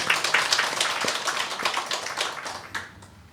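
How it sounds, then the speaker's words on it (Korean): A church congregation claps to welcome a first-time visitor, with sharp, close hand claps that start brisk and dense, then thin out and fade away. "뜨거운 박수로 환영하겠습니다"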